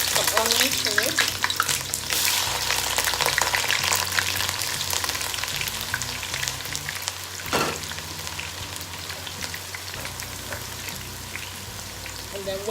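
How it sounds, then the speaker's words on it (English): Onions sizzle and crackle steadily in piping-hot palm oil for a Nigerian chicken stew, a loud continuous frying hiss with occasional stirring. "that's the palm oil piping hot. So we'll add some onions to it."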